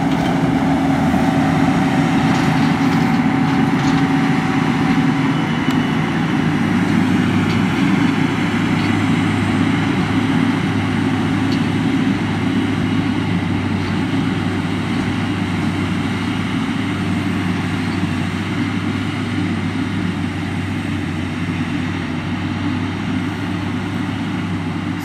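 A John Deere 6930 tractor engine works steadily in a field during forage harvesting, a constant low droning rumble that stays loud and even throughout with no pauses.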